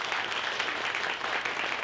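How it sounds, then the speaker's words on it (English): An audience at a planning panel gives the panelists a round of applause, a short burst of dense, even clapping heard from a moderate distance. "I'd like to give another round of applause for our panelists"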